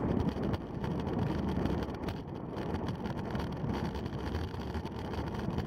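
Strong headwind roars across the microphone during a fast downhill descent in a Category 5 criterium bike race in Louisville, a dense, steady low buffeting rush that fills the whole stretch with no voices.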